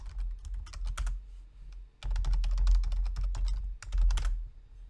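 Close bursts of fast computer-keyboard typing as a tcpdump command is entered, with rapid clicking keystrokes in three clusters separated by brief pauses.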